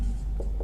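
A pen writing a short sentence on paper: soft, brief scratching strokes in a quiet room, faint and close, with a couple of small pen-tap accents.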